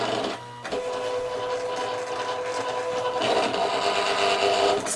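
A Silhouette Cameo vinyl cutting machine whirs and buzzes steadily with a mechanical hum while cutting labels, shifting pitch and getting busier partway through, with a blade scraping along.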